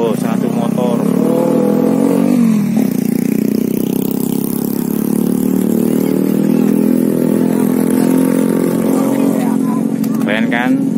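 A small motorcycle taxi near Papandayan, loaded with seven hiking backpacks for a porter, running close by with a steady mid-pitched engine drone and slight throttle changes. Voices talk over the engine throughout.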